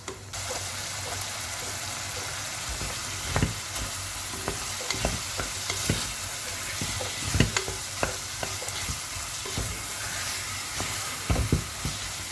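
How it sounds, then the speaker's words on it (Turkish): Carrot and potato mixture being stirred and turned in a pot, with repeated scraping clicks of a utensil over a steady low sizzle, close and moderately loud, no talking. "Ve karıştırıyorum güzelce malzemeleri. bir tık bu şekilde çevireceğim."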